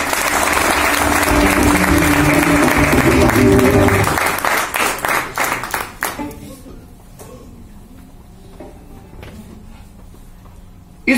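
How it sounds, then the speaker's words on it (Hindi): Loud applause from a crowd fills the room, then thins into scattered claps and fades to quiet. "जोरदार तालियों के बीच में।"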